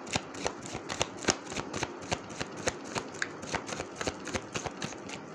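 Tarot cards being shuffled close up, a run of quick crisp riffling snaps and soft flutters repeating in an uneven rhythm, with no voice over them.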